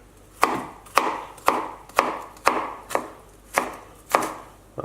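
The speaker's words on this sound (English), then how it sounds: "We're going to cut up our onions" Onions are chopped roughly with a knife on a board: nine crisp, evenly spaced chops at a steady rhythm, close and clear with no talking.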